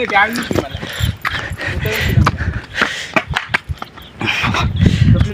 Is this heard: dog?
yes